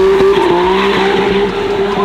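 Tires on a heavy replica Lamborghini SV with a gated six-speed squeal and break loose in a parking lot, a loud, sustained screech over engine noise.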